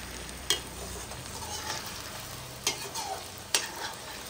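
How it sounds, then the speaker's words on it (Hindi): Shredded jackfruit is stirred and fried in a pan, a soft steady sizzle broken by three sharp scrapes of the spoon against the metal, close and fairly quiet. "आप देख सकते हो कटहल हमारा फ्राई हो गया।"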